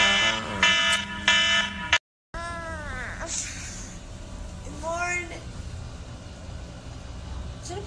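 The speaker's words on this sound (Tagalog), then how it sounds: "Alden, yung alarm mo. Patay mo muna." An alarm clock buzzes in repeated harmonic bursts, then a speaker talks over warbling electronic tones, close and fairly loud indoors.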